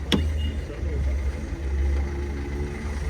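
A used car's new engine idling at a used-car market, a steady low rumble running throughout with a brief sharp click near the start and faint background voices around it.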